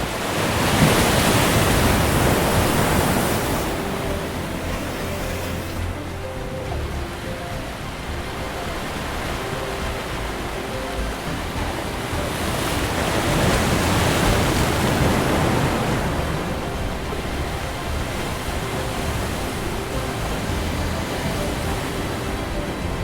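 Ocean surf breaking on Karde beach in Dapoli, a long stretch of sand, with a loud, continuous wash of waves that swells and recedes in broad surges, mixed with gusty wind noise and no voices.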